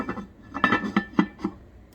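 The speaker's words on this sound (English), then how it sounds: "I'm going to set this on the stove, and I will cover it up immediately" Pot of sweet potatoes set down on a stove and covered with its lid, giving a few short metallic clanks and knocks nearby, alone without speech.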